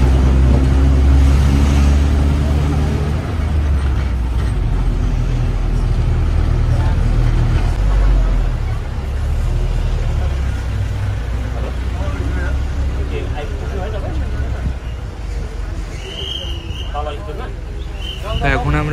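A non-AC government bus creeps slowly through moderate traffic in Kalimpong town in cold weather, its low engine rumble and road noise steady throughout, with a faint higher whine near the end.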